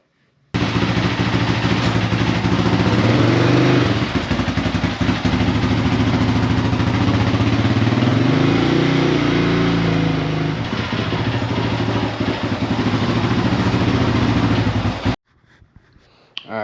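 A 2001 Yamaha Raptor 660R ATV engine runs loud and close, bogging badly with an uneven, stumbling note while it leaks coolant, holding steady for about fifteen seconds before cutting off abruptly.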